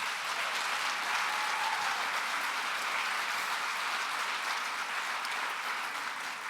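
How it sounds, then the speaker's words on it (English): Guests at the Celebration of Hope 2023 gala give a warm round of applause, a steady wash of many hands clapping at moderate distance, sustained evenly throughout without speech. "Please give them a round of applause."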